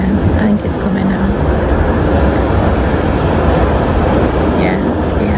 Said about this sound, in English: I think my tram is coming.